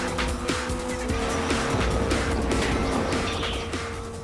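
Race cars tearing along city street tracks in the racing game Asphalt, a steady loud engine drone with whining pitch sweeps and squealing tires, continuous and without talk.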